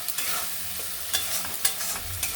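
Yogurt and spice paste sautéed in a pan for a Bengali doi potol dish, a soft continuous sizzle with a few scraping stirs of the spoon, close and steady.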